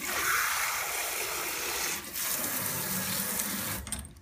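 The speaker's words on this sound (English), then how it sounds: "if I add more water," Water pours steadily into a container holding a floating toy cruise ship, a continuous splashing stream that runs at moderate volume and tapers off at the end, with no talk.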